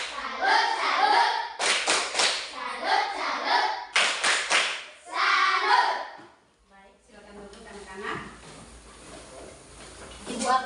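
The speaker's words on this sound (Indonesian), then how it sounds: "Satu kali tepuk salut untuk Marveli." Children in an elementary school Catholic religion class clap a rhythmic salute clap in short patterned bursts of sharp claps, mixed with their chanting voices, followed by quieter room sounds.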